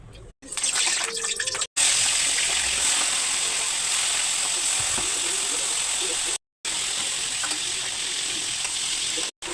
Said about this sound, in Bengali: তাহলে আমি আস্তে আস্তে মাছটাকে ভেজে নিচ্ছি।